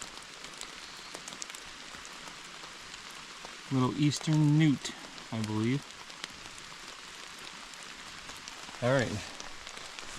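Rain patters steadily on a forest trail along the Appalachian Trail, a soft, constant hiss of drops throughout, while someone speaks briefly in a few short bursts over it.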